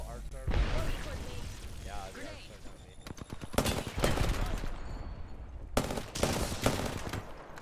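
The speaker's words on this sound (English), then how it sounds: "He's firing on me." Gunfire in an Apex Legends match: several rapid automatic bursts with sharp, loud cracks, separated by gaps, and players talking over the fighting.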